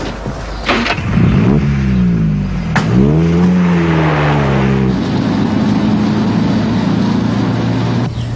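A taxi driven fast gives a loud, close engine roar that revs up with rising pitch twice, then settles into a steady, strained drone.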